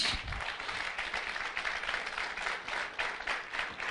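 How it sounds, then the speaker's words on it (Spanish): A church congregation claps steadily at a Spanish-language worship teaching, a moderately distant wash of many hands applauding without pause. "Aplaudo al Señor"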